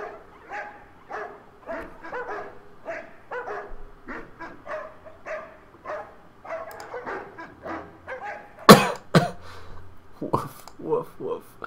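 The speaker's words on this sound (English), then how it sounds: "Here's all of the woofs." A dog barks, yips and whimpers in quick repeated bursts at moderate volume, then gives a sharper, louder outburst near the end, with voices talking alongside.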